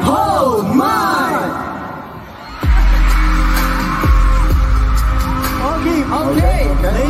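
A large crowd of fans at an SB19 fan meet celebration shouts and screams loudly in swelling, sustained bursts, with a host's amplified voice talking over the noise at the start.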